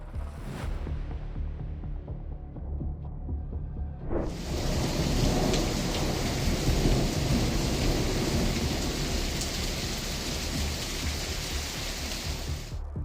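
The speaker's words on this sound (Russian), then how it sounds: "Атмосферный фронт принес в регион Коста-дель-Соль резкую дестабилизацию погоды, сопровождавшуюся интенсивными электрическими разрядами и обильными осадками." A thunderstorm over Málaga on Spain's Costa del Sol brings a low thunder rumble, followed by a loud, dense hiss of heavy rain that continues steadily to the end.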